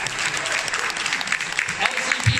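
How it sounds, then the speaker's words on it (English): An audience claps at a live talk event in Hong Kong, giving a brief burst of dense, close applause with voices mixed in. "You're welcome to clap if you like."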